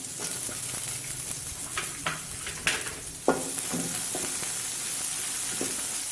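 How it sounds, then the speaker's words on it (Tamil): Sliced large onion sautéing in a pan of hot oil for coriander rice, a steady close sizzle with occasional stirring scrapes and clacks. "வெங்காயம் கொஞ்சம் நல்லா வதங்கட்டும்"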